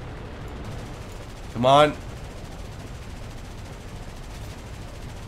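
Burst of .50 caliber machine gun fire in the aerial combat game War Thunder, a single sharp rattling volley near the start over a steady engine drone, with a player talking briefly.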